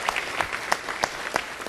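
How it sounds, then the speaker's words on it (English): Short burst of applause at a city council meeting honoring a Vietnam veteran, scattered claps rising and fading over under two seconds, moderately loud in a large room. "Now you can applaud him."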